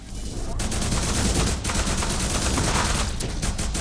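Rapid SMG gunfire from the Doom 3-style shooter Retchid, sounding as a dense, continuous rattle of shots for several seconds, loud and close with a brief dip near the start.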